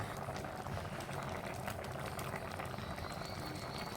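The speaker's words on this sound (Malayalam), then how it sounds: "അടുപ്പിൽ വെച്ചിട്ടുണ്ടായിരുന്ന മാങ്ങയൊക്കെ നല്ലോണം തിളച്ച് വന്നിട്ടുണ്ട്" Mango pieces boil steadily in a covered pot on a stove, giving a continuous, even bubbling and hissing texture throughout with no pauses and no speech.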